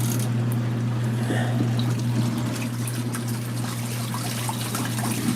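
Water pours into an LG ThinQ washing machine drum, a continuous trickling splash over a steady low hum from the machine, with no one speaking.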